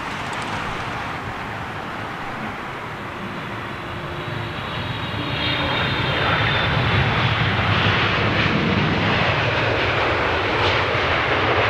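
An aircraft landing in a crosswind at London Heathrow produces a steady engine roar that swells louder about halfway through and stays strong, with no voices.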